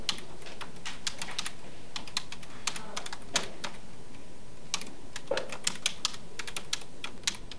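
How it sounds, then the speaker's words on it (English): Login credentials being typed on a computer keyboard, a steady run of crisp, irregular key clicks close up over a faint background hiss, with no talking. "Let's type in our credentials."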